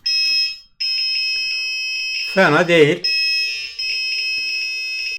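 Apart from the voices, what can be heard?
small electronic buzzer sounding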